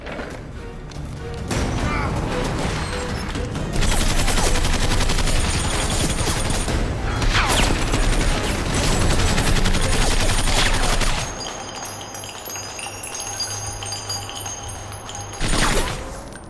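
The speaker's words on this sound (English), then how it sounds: "who's shooting?" Loud, sustained gunfire from an action movie: dense rapid bursts of shots and cracks that fill the first eleven seconds, then a quieter stretch with a hum and a final sharp burst near the end.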